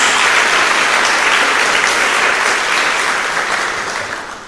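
A church congregation breaks into loud, dense applause that fills the room steadily, then tapers slightly toward the end.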